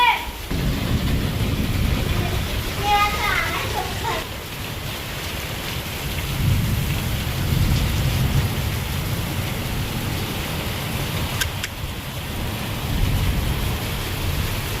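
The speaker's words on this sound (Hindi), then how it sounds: "ये देखो बहुत भयंकर बारिश हो रही है।" Heavy rain pours down in a steady roaring hiss, with a brief faint voice early on and a low rumble swelling in the middle.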